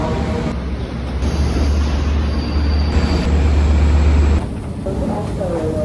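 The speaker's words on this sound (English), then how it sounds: "This is the district train in the US" Train ride in the US at night, with a steady low rumble and a constant hum throughout, a brief shift near the end and some background voices over the noise.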